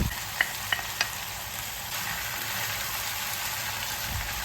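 Lagman noodles stir-fried in a pan for tsomian: a steady close sizzle with a few sharp clinks of the utensil against the pan early on, the frying hiss continuing evenly throughout.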